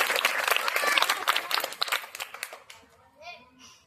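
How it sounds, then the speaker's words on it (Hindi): Audience at a charity program with Bhagavad Gita recitation clapping to welcome the foundation president, a burst of many hands that thins out and fades, with children's voices after. "आप लोग ताली बजा के एक बार स्वागत करें।"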